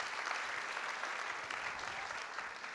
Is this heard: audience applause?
yes